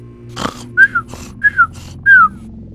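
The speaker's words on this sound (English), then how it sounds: "Sorry for the whistling." A person whistles three short rising-then-falling notes in a regular rhythm, loud and close, with a brief thump and faint low background hum between them, in a Portal 2 PC playthrough.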